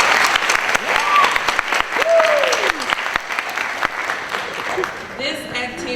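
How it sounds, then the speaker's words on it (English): Audience at a technical honor society induction ceremony gives a round of applause, a dense crowd clapping that tapers off toward the end with a few voices and murmurs emerging. "We also want to give you a round of applause."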